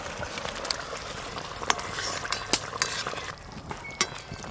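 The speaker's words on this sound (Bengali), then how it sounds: "গ্রেভি তো ফুটে গেছে, এবার ভেজে রাখা পাঁপড়গুলো দেব।" Gravy bubbling in a pan, waiting for fried papads to be added: a steady close simmer with soft liquid bubbling and a few sharp pops and clinks spread through, no talking.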